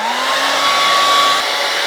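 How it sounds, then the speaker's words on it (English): A hair dryer blows steadily on freshly cleaned Singer 201 sewing machine parts, including the presser bar, with a close, continuous whirring rush that never pauses and has no talk over it. "as soon as you hear about 10 seconds of hair drying"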